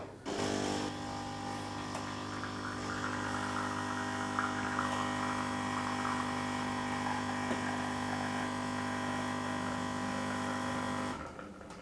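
A Siemens TF303G07 espresso machine brews espresso with a continuous, close electric pump hum and buzz that holds steady for about eleven seconds, then cuts off abruptly.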